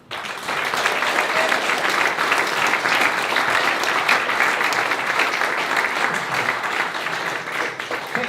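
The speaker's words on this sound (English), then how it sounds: "now a round of applause for the 100 and some odd people who have worked to make this moment happen" Steady, loud applause from a city council meeting audience in Newport, a dense wash of many hands clapping that rises quickly and holds evenly for several seconds.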